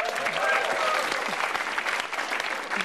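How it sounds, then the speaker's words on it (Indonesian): A television stand-up comedy audience applauds the comedian Iwel with loud, sustained clapping, and faint voices and cheers are mixed into the crowd noise. "Ya tepuk tangan dulu buat Iwel, gila."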